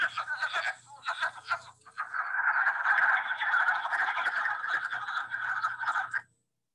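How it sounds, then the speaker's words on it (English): A chorus of wood frogs gives off a steady stream of hoarse, clucking croaks, like distant quacking ducks, continuing without pause until it abruptly stops. "Sound like quacking ducks. That's the wood frog."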